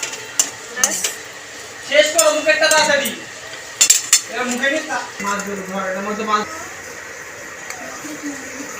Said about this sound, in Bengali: ধনে পাতাটা দিয়ে একটুখানি নাড়িয়ে নিলাম